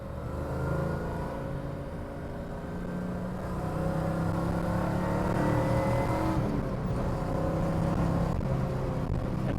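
A 1970 Chevrolet Chevelle SS with the LS6 big-block V8 pulls hard under acceleration, a loud, steady low engine roar heard from inside the car that builds in pitch as it revs, with no talking over it.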